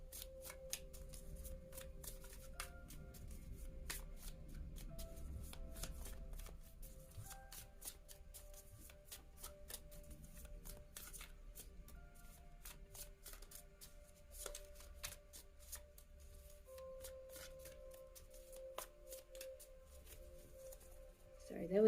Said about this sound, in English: that was a very long shuffle